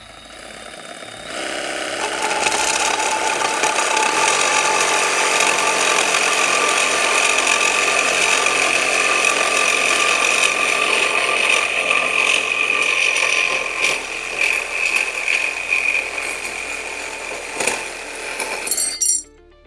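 A power tool cuts a 6-inch piece of material for a remote oil filter relocation on an MK3 Supra, a loud, steady grinding whine that holds for most of the clip and then cuts off abruptly near the end.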